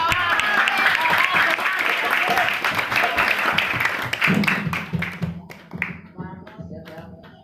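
Full crowd applause from an audience at a santri sholawat performance, a thick, continuous patter that thins into scattered individual claps and dies out over the last few seconds, with faint voices underneath.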